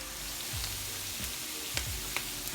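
Seasoned potatoes fry and crisp in oil with a close, steady sizzle and crackle, with a few soft scrapes of stirring and no talking.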